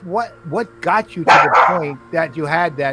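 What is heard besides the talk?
dog barking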